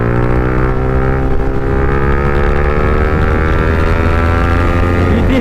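A motorbike ridden along a favourite road: a steady, close engine drone with layered harmonic hum and constant wind rush, holding an even level throughout.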